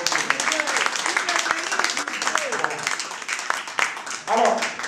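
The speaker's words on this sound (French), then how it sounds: "Encore un tonnerre d'applaudissements pour le roi de la parole." An audience at a Paris press event breaks into loud, sustained applause and cheering, with a voice speaking over it toward the end.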